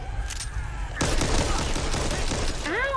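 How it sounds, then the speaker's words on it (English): Gunfire erupts in the zombie co-op shooter Back 4 Blood, a dense burst of shots kicking in after a quieter opening and rattling on steadily, loud and close, with faint voices in the mix. "who's shooting me?"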